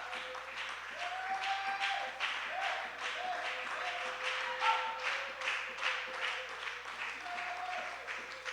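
A church congregation applauds steadily, a soft, continuous patter of many hands heard at a moderate distance, with faint voices mixed in.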